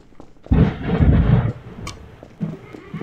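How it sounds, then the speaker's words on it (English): Thunder in the video game Garry's Mod: a loud, broad rumbling burst of about a second that fades into quieter ambient noise and faint clatter. "And it's thunder outside, that's nice."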